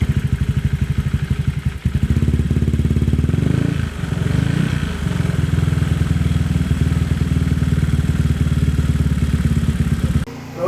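A modified 2012 Honda Vario scooter runs close by at a steady idle, its engine putting out a dense, even rattle with a brief dip and a few revs along the way.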